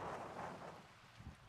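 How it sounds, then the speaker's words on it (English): Strong gusting wind buffets the microphone at a fishing lake, a steady low roar that swells and eases, fairly faint, with no voices. "My God, is it windy."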